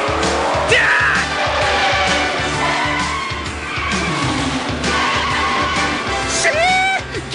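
A rotary turbo Subaru drifts in the Yankee Reppuu-tai 2 video game, with loud, pulsing engine drone under sharp tire squeals that rise at the start and end.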